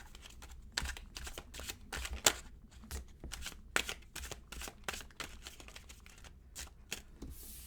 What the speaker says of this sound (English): I just want to shuffle a little bit here. Get these all mixed up.